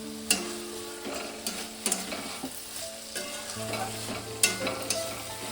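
Beans and potatoes with poppy seed stir-fried dry in a pan: close scraping and stirring strokes with a soft, steady sizzle underneath, several sharper clacks of the spatula against the pan, no voices.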